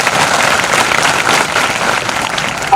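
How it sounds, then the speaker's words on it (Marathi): A student audience claps loudly and steadily for their teachers at a motivational talk, a dense burst of applause that holds for a few seconds. "एकदा शिक्षकांसाठी जोरदार पोरांनी टाळ्या द्या"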